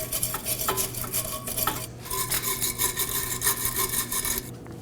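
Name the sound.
wire brush scrubbing rust off control arm mounting surface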